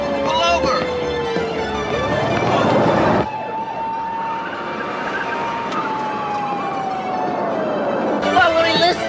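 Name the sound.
police car siren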